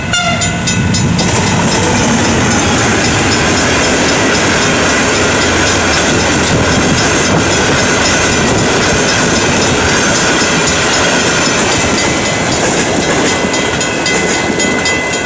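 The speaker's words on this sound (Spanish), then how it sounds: "estamos ante una carrera de trenes del ferrocarril San Martín en el paso a nivel de avenida Francisco Beiró" Two San Martín line trains race past a level crossing at Avenida Francisco Beiró, Buenos Aires, loud and close, wheels clacking steadily, with a horn sounding over the continuous roar.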